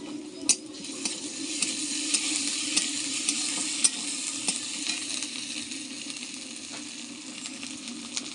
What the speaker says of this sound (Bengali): এবার কড়ার মধ্যে দিয়ে দেবো আদা রসুন বাটাটা